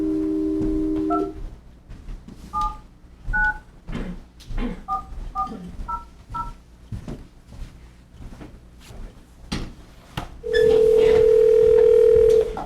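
Telephone dial tone and a series of DTMF keypad beeps as a desk phone is dialed in a city council meeting room, a steady tone at the start, about eight short spaced beeps, then a loud sustained ringback-like tone at the end, with faint room noise.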